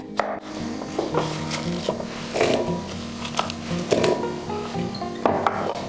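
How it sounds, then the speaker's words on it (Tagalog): Three small carrots have their ends trimmed with a knife: a series of sharp cutting taps and scraping strokes on a board, close and moderately loud, with a low background hum. "Tinatanggal ko lang ang mga dulo dahil doon kadalasang naiipon ng lupa"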